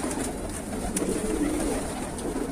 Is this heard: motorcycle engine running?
no